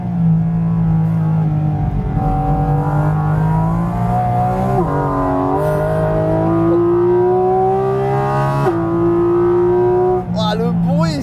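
A Porsche Cayman GT4 RS lapping a race track, its engine loud and close, revving hard and climbing through the gears with brief dips between shifts, while a voice talks over it.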